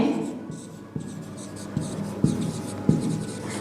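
Numbers being written on a number line for a sixth-grade integers lesson, with pen or chalk strokes tapping and scratching several times, close by and under a steady background hum.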